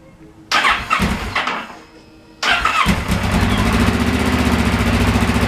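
A Kawasaki Ninja motorcycle under restoration cranks once briefly, then catches on a second attempt and settles into a loud, steady close idle.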